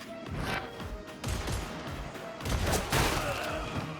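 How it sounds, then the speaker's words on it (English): Muffled bursts of gunfire from behind crackle through a dense, noisy background in Warhammer 40,000: Darktide, with rapid overlapping shots at moderate loudness. "That's the sound of someone trying to shoot you from behind."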